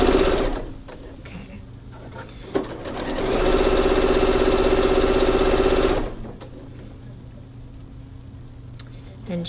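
A sewing machine stitches a skirt seam up close, its motor running in one loud, steady burst of about three seconds before stopping, with quieter handling noise on either side.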